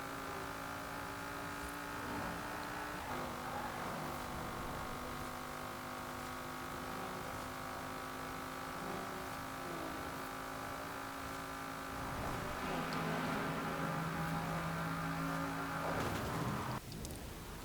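A 1988 Holden VL Commodore Group A SV in Forza Horizon 4 holds a steady, loud engine drone at high speed for most of the run, with a gear change near three seconds and a deeper surge near the end.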